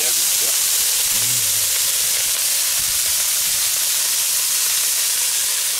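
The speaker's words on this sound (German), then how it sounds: "Also schön portionsweise anbraten und wenn der Dutch-Ofen richtig schön heiß ist," Gyros meat sears in a hot Dutch oven, giving a loud, steady hiss and sizzle with a brief voice near the start.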